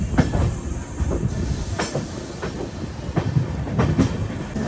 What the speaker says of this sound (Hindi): दोस्तों जो सामने ट्रेन निकल रही है वो है न्यू दिल्ली डिब्रूगढ़ राजधानी।